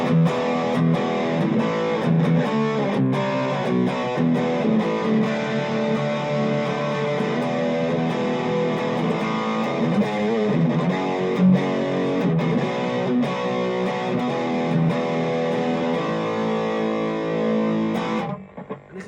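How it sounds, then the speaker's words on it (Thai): A heavily distorted 1970 Japanese GaBan Les Paul Custom electric guitar plays sustained, gritty chords and notes through a small amp, continuous and fairly loud, then cuts off near the end. "เป็นเสียงแตกคร่าวๆนะครับ"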